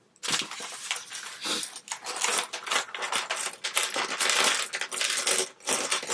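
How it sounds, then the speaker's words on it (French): A bag of plastic Lego pieces is tipped out in a continuous clattering rattle of many small bricks. The pour is close and moderately loud, with brief pauses and surges, and nobody speaks. "Donc je vide le sachet."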